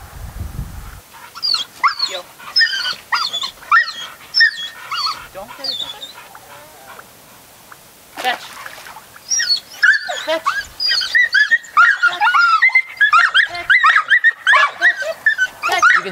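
Excited dog whining, yipping and barking on a dock-diving platform before leaping into the pool after a dummy, with high, rapid bursts of whimpers and yelps that build in intensity, close to the microphone.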